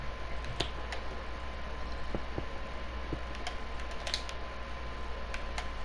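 Soft, irregular clicks of computer keyboard keys pressed during Minecraft play, faint and steady over a low background hum, with no speech.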